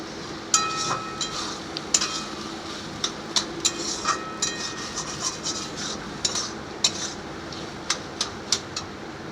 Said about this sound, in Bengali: আর ভালো করে নেড়ে ঢাকা দিয়ে দেব